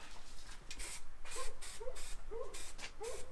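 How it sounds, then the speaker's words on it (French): An aerosol spray paint can is purged while held upside down during paint tests on a 1968 Camaro SS restoration, giving several short, fairly close hissing bursts in a quiet workshop with no talk. "On va purger la bombe qui se purge la tête à l'envers."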